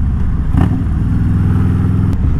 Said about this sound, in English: It's got a nice, deep, deep rumble to it.